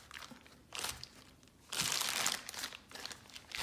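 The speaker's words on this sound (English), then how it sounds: "I'm going to use the Fat Daddy's gum paste. Just break off a little chunk." A small chunk of Fat Daddy's gum paste is broken off and handled up close for a sugar flower, heard as two or three soft, crinkly tearing and squeezing bursts, quiet and without any talking.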